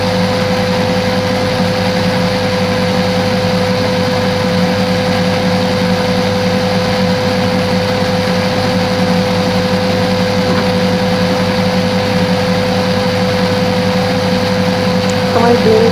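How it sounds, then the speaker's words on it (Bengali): An electric blender runs continuously on green chutney ingredients such as leaves and garlic, giving a steady, loud motor whine with a strong constant tone and no pauses. "এখন আমি সবগুলো উপকরণ ব্লেন্ড করে নেব 2 মিনিটের জন্য, বা যতক্ষণ পাতাগুলো একদম ব্লেন্ড না হয়ে যাচ্ছে"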